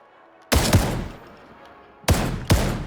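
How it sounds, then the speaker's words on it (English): Shotgun blasts from the video game Starship Troopers Continuum: three loud, close booming shots, the first followed by a long rumbling decay, then two more in quick succession near the end. "Like any shotgun, it has its range drawbacks. But if you line up the shots properly, you can take things out quickly."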